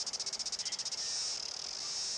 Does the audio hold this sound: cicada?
yes